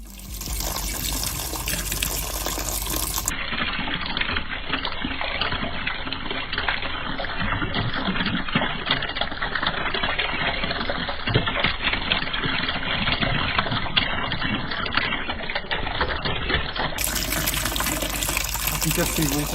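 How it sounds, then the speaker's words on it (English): An automated dishwasher-like machine washes airline headphones with soap and hot water, giving a steady, loud wash of spraying and splashing water that runs for the whole stretch, with a brief sharper start. "Soap and hot water dissolve the foam padding off the plastic base"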